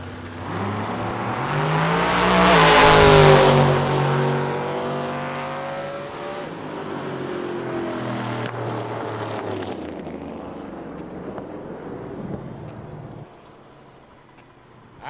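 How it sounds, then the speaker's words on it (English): A Nova drag racing car makes a test hit at a West Coast Hot Rod Association season finals, a loud engine roar swelling to a close, piercing peak within seconds and then receding into a steady fading rumble. "we got the Nova here doing a test hit"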